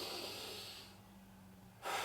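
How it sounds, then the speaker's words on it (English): A single deep breath in, a long, close airy inhale lasting nearly two seconds with no talking. "take a deep breath in"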